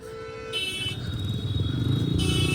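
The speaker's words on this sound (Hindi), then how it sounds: "सो दोस्तों ये देख रहे हो ट्रैफिक कितना हो चुका भाई" Busy road traffic on the way to a Baba Maimal Ji shrine, with engines rumbling close by and sustained car horns honking over the din in long overlapping blasts.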